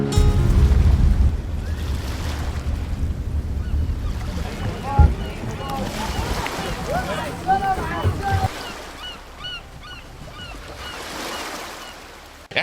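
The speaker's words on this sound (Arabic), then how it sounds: "في يخت وسط البحر والروعة ديت؟" A yacht cruising on the open sea off Marsa Matruh, with steady wind and wave wash under a low engine rumble, loud at first and easing later, while people talk over it.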